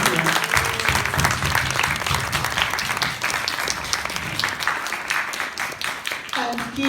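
Big round of applause from a crowd honoring the ladies at a charity event in a Hindu temple hall, continuous dense clapping with some voices mixed in.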